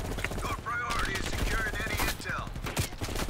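Rapid gunfire bursts from Call of Duty Black Ops Cold War gameplay, dense and continuous with sharp repeated cracks, under excited voice chat from players.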